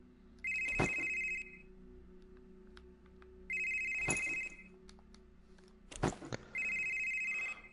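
A telephone rings inside the VR horror game Weeping Doll, three separate electronic ring bursts spaced a few seconds apart, clear against a quiet room.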